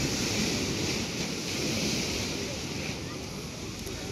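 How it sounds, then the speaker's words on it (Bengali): Rough sea surf surges onto the shore at Old Digha beach on a new-moon tide, a continuous loud roar of churning water with wind buffeting the microphone. "বিশাল বড় এই দেখো জলের ঝাটকা পুরো 10 ফুট 15 ফুট 20 ফুট করে উঠে যাচ্ছে।"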